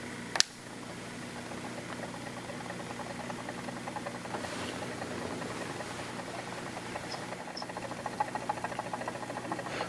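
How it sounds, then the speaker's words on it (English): A magnetic stirrer runs on a Hanna HI 2211 pH and ORP benchtop meter setup, a faint steady whirring hum with a light click at the start, quiet and continuous. "We hit the cal button and we turn on the magnetic stir."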